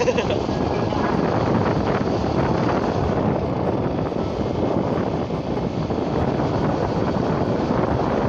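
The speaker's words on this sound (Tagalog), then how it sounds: "Naririnig nyo ngayon is hangin." Wind batters a microphone outdoors in a barangay with constant loud, low rumbling buffeting, and a voice is faintly audible beneath it.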